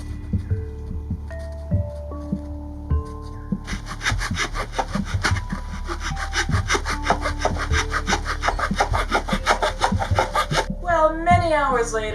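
Sanding and filing on a paper mache No Face mask coated in joint compound, a steady rhythmic scraping that grows denser and louder over the middle of the stretch, alone with faint background tones and no talk.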